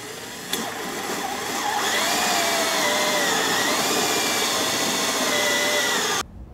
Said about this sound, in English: So let's go ahead and drill our hole.